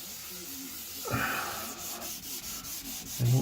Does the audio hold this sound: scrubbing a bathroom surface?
yes